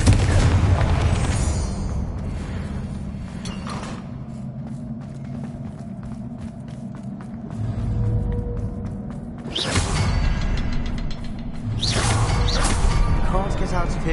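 Blast spell explosions in the video game Hogwarts Legacy, a heavy boom up front, a quieter mechanical stretch, then two more loud bursts with rumbling tails, no speech.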